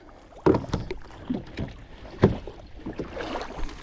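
Old Town 120 Pro fishing kayak taking its first touches of water, with splashes and knocks of the hull against water in irregular bursts, fairly close, over light wind noise.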